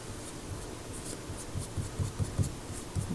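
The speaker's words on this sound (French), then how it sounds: "je peux facilement, avec un papier mouchoir, enlever là qu'est-ce qu'il y a en trop" Tissue paper rubbing across a sheet of paper to lift off excess black, a soft continuous scratchy brushing with quick repeated strokes, close and quiet.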